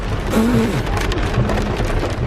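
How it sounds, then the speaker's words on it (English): Heavy rain pours down in a dense, loud, continuous hiss, with a low rumble underneath that sounds like thunder or traffic, and no voices break through. "It's the worst rain I've ever been in."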